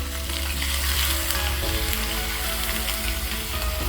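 Dried red chillies and curry leaves sizzle and crackle loudly in hot oil while being stirred, a dense continuous frying hiss up close during preparation of rava idli tempering.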